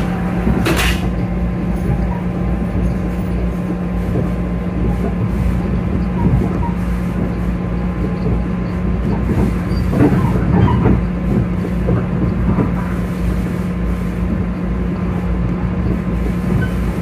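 Steady rumbling of a Metro-North Hudson Line commuter train running on rails between Grand Central Terminal and Croton-Harmon, with a constant low hum, occasional clicks and clatter, loud and continuous throughout.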